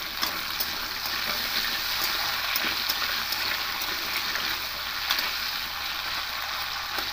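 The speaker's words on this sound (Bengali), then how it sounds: "প্রথমে আলুটা দিয়ে একটু ভেজে নেবো" Potatoes sizzle steadily in a pan of hot oil while being cooked for a vegetarian ridge gourd and poppy seed curry, a continuous soft hiss with occasional light crackles and no talk.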